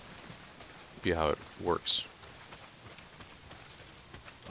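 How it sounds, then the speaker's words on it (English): Steady rain pours down in the video game Days Gone, a constant wash of patter running through the whole stretch while a person speaks briefly near the start. "Well, not if it's pissing down rain."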